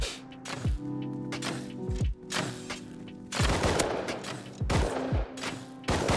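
Bursts of rapid gunfire crackle repeatedly over a steady soundtrack in the video game Rust, with several volleys of shots in quick succession.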